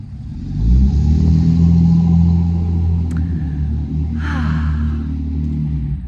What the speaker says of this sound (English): We'll wait for this big loud truck to pass by.